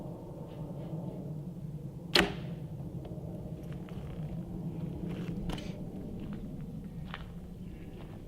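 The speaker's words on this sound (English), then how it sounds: "now we're going to shoot the Black Eagle Rampage 350" A single arrow released from a Black Eagle Rampage 350 compound bow, a 440-grain shaft, gives one sharp crack with a quick whoosh, loud and close, over steady outdoor rumble with scattered faint taps afterward.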